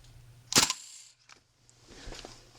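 A KWA LM4 airsoft rifle fires a single semi-automatic shot, one sharp, close pop with a brief mechanical clack, followed by quieter handling noise.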